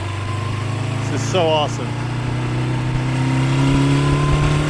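A 1976 Honda CB550 motorcycle engine runs close by with a steady loud idle that rises slightly toward a rev, while someone speaks briefly over it.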